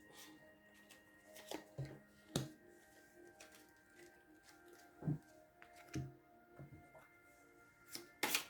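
Cards shuffled by hand for a tarot-style three-choice draw: scattered riffles and sharp taps come in irregular bursts, close but quiet, with no talking.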